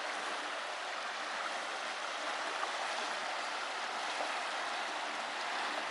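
River water rushes steadily around a small island midstream, a continuous broadband wash with no breaks, heard fairly faint and alone.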